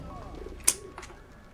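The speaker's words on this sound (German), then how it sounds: "Meine geliebte Taube." A single soft pigeon coo in the video game Valiant Hearts, one brief call near the middle of a quiet game scene.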